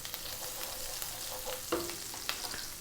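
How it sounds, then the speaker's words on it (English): Chopped garlic sizzles in olive oil in a pan on high heat, a steady close frying hiss with small crackles and a few stirring clicks. "2 teaspoons of garlic, chopped garlic."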